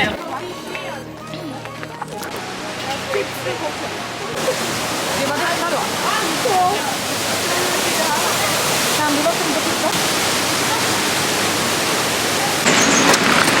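A waterfall in Cyprus roars with a loud, continuous rushing wash of falling water, and a person talks over it for much of the time.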